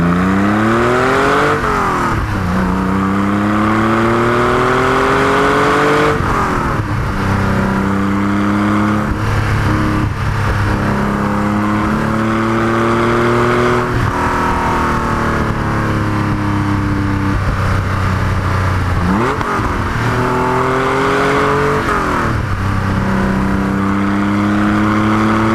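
A track-prepped Porsche 964 Carrera 4 on very sticky R888R tires is driven hard on a circuit. The loud engine climbs in pitch through each gear, drops sharply at every shift and climbs again, with no talking.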